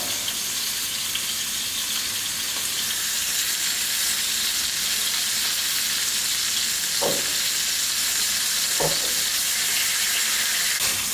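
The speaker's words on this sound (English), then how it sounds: "should be able to hear that nice little sizzle" Meat sizzles steadily in a hot pan while browning before going into the oven, a continuous close crackling hiss with a couple of brief clicks partway through.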